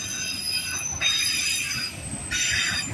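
A KCSM freight locomotive train passes close by, its wheels squealing in loud, steady high-pitched screeches that swell in two bursts over a constant rumbling roll of rail cars.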